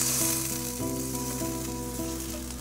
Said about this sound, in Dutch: En daar gaat de room bij.